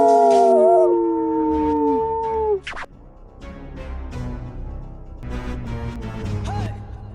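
A howling sound effect with several overlapping canine voices in long rising and falling wails, loud and close for about two and a half seconds, followed by lower rumbling sounds and faint yips.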